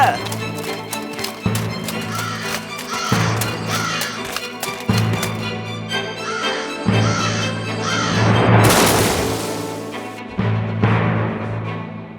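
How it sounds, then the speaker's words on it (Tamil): Cartoon crows cawing as they fly off with stolen jewellery in a Tamil animated fairy tale about crows and a serpent, harsh calls mixed under music and voices. "அந்த காக்கா எல்லாம் நகைகளை திருடிட்டு பறந்து போய்கிட்டு இருக்கு"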